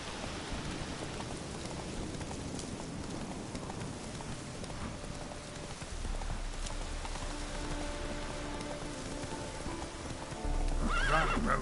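Roach, a horse in The Witcher 3, gallops with steady rapid hoofbeats and an occasional whinny, rain pattering throughout the scene and growing louder near the end.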